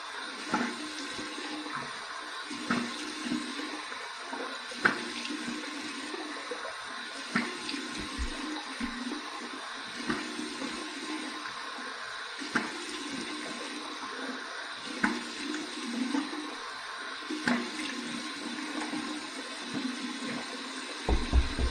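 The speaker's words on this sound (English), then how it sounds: "Here's my warm water rinse." Warm tap water runs steadily for a face rinse after a wet shave with a Bakelite Artifact safety razor, a soft continuous splashing stream at low volume with small bursts of splashing throughout.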